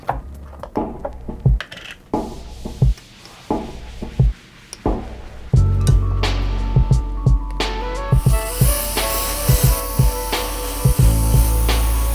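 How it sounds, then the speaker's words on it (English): An airbrush sprays Jacquard cream paint onto custom Adidas Ultra Boost sneakers. Sharp clicks come first, then a steady close hiss runs over a low hum, with scattered clicks continuing throughout. "Angelus doesn't work really well through the airbrush, so that's why I'm using Jacquard"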